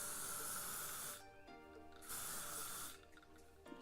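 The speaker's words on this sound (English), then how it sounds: "I take my hairspray again, and then I just start spraying my hair at the bottom" Hairspray hisses from a can in bursts sprayed onto hair, three close spritzes separated by short pauses.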